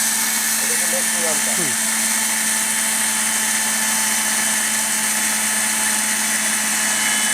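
A Panasonic blender runs at maximum speed grinding dry rice, producing a loud, steady, high-pitched whine and rushing roar that holds unbroken throughout, with a voice speaking briefly over it near the start.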